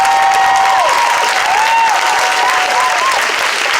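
A crowd applauds steadily at an outdoor march for justice for Breonna Taylor in Nubian Square, a loud continuous wash of clapping with a few whistles or cheers rising over it.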